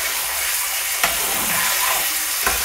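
Kaju paneer curry stirred in a pan, a steady close sizzle with a few soft scraping strokes of the spoon against the pan bottom, no talking.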